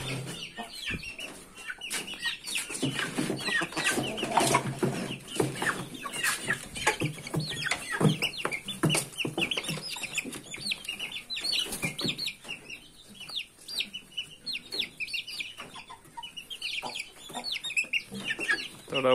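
Chickens cluck and murmur close by around their feed of sweet pumpkin, with frequent overlapping calls throughout.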